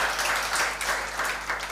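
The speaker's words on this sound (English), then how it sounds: "Once again, let us applaud Marian." Audience applause at a women's fintech hackathon event, a steady wash of clapping from a crowd filling the short moment without speech.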